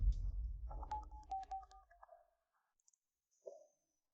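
A telephone number is dialed in a quick run of short, distinct tone beeps, followed by a faint click and a brief tone, after a low rumble fades out.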